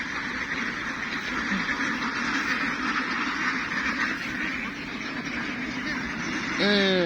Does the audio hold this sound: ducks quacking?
yes